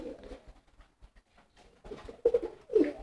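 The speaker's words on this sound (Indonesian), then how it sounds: "Nih merpati betinaannya saya simpan di situ" Soft, low coos of a female pigeon in a cage sound close by, a few throaty warbling calls rising out of faint background noise toward the end.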